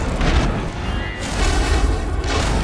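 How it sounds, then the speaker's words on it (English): Missiles explode in Star Wars: The Old Republic as bounty hunters with jetpacks fire down on opponents, giving a loud, dense wall of rumbling booms in two heavy waves. "bounty hunters rocketing, with jetpacks, firing missiles down on their opponents"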